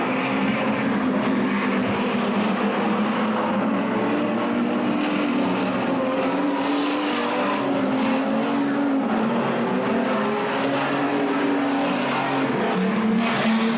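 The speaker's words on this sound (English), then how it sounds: "Cade Munro's car still doesn't sound awfully flash" Street stock race cars at a state title practice session roar steadily around the track, engines droning loud and continuous with wavering pitch as cars pass, no voices over the racing.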